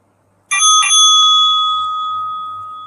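A bell strikes twice in quick succession with a bright metallic ring, then a long clear decay, loud and alone, marking the end of a question-and-answer segment in a research presentation session.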